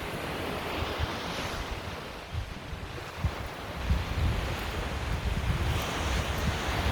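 Sea waves wash onto the seafront at Alona Beach in the Philippines, a constant rushing surf with low rumbling swells and wind buffeting the microphone, and no voices.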